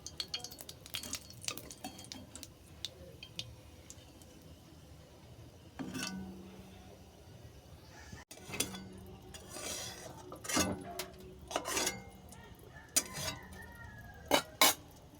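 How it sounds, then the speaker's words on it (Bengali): Metal spoon scraping and clinking against a pan as fried tempering spices are lifted out, a run of sharp, close clinks and scrapes that grows busier toward the end, with no talk. "ফোড়ন ভালো করে ভেজে নেওয়ার পর ফোড়নটাকে আমি নামিয়ে নিচ্ছি।"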